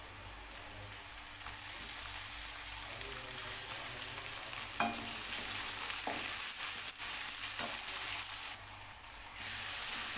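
Chopped tomato frying with well-browned onions in a pan, a steady soft sizzle and crackle throughout with a few brief stirring knocks, heard alone at close range.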